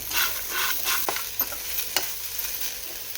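Chopped onions frying lightly in homemade ghee for chicken biryani, a soft continuous sizzle with a few sharp clicks of a spoon stirring in the pan.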